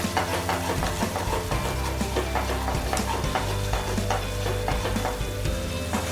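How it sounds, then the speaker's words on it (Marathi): Stuffed ivy gourd masala gravy with yogurt is stirred in a pan over low heat, giving a steady wet scraping and sizzling with repeated spoon strokes throughout, close and fairly loud, with no talking. "आणि मस्तपैकी याला ढवळून घ्या"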